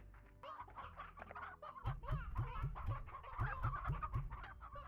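Hens clucking in the video game Slime Rancher, a busy stream of short, repeated clucks and squawks from several birds, moderately loud and fairly close, with no talking.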